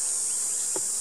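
A continuous bright buzz of honey bees hums at close range by the hive, steady throughout, with one brief low bump near the end.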